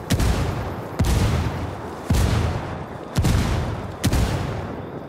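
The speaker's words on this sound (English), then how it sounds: "Okay, I am running because that mortar's close." Mortar rounds land close by in Ghost Recon Wildlands, five heavy booming blasts spaced about a second apart, each a sharp crack followed by a rumbling tail, loud and with no talking.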